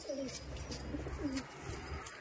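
Andhra pigeon chick giving low, soft coos in a few short phrases, close by, with a steady background hiss and no talking.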